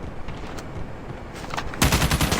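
Gunfire in the mobile shooter game Call of Duty Mobile, with an LK-24 rifle: steady rapid automatic bursts throughout, growing louder and denser near the end.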